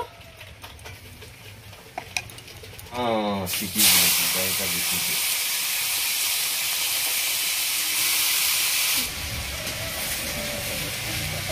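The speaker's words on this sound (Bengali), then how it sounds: "ওই একই কড়াইতে এবার আমি কপিটা ভেজে নেব।" Cauliflower frying in mustard oil with turmeric in a wok: a few light clatters, then a loud, steady hiss of sizzling oil sets in and holds close and continuous to the end.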